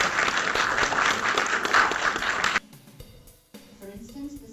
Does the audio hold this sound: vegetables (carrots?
no